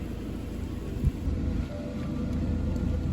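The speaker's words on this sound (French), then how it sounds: "Je pense que c'est l'eau de pluie sur les sols brûlants." Rain falling on sun-baked ground in Arizona makes a steady, soft hiss with a low rumble underneath, fairly even in level, with one brief louder thump partway through and no talking.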